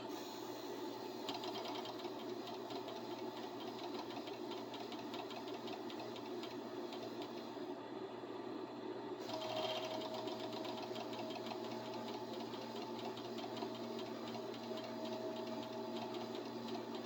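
A serger overlock sewing machine stitching thread slowly, giving a steady, continuous mechanical hum and rapid needle chatter throughout, close but fairly soft.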